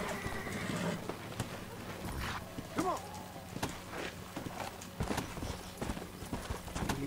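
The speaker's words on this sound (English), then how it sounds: "Come on, you darn horse." Horse hooves clip-clop at a gallop through a Red Dead Redemption game scene, with a loud whinny partway through, all under a man's spoken urging.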